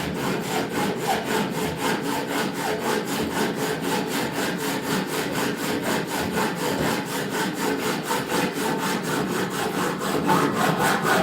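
A hacksaw cuts steady back-and-forth strokes through a workpiece held in place, each rasping stroke loud and close, in an even rhythm lasting throughout with no talking.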